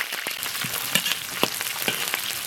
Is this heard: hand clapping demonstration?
no